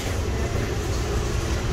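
A subway train rides the rails on a Boston line, filling the space with a loud, steady rumble and rushing roar with no clear gaps.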